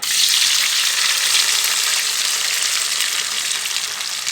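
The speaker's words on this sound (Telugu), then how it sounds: "బాగా ఎర్రగా వేపుకోవాలండి" Chicken frying in hot oil for chicken pickle, a loud, dense, steady sizzling hiss up close with no voices.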